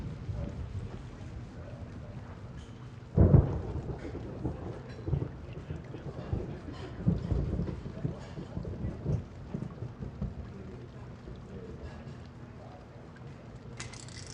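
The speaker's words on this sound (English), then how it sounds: "Looks like the rain's letting up." Video game rain patters steadily while a loud rumble of thunder rolls in, then fades into lingering low rumbles and drizzle, from the PC game Tex Murphy: The Pandora Directive.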